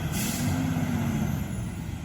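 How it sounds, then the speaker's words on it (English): A heavy recycling truck's air brakes release a loud hiss over a rumbling idling engine, close by, with a faint high whine fading above. "here comes the recycling truck"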